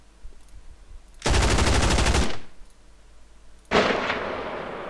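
Two loud gunshot bursts with an outdoor reverb tail, each a sudden roaring blast; the first cuts off after about a second, the second decays more slowly into open-air echo.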